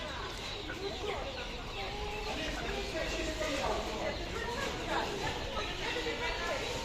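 Many hungry chickens at a poultry market cluck and murmur together at close range while feeding, a steady busy chatter with a person talking over it.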